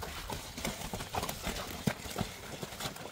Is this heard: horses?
yes